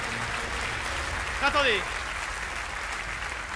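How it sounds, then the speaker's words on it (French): Theatre audience at a mentalist's stage show applauds the participants, a moderate continuous patter of clapping under the performer's brief spoken word. "on peut les applaudir"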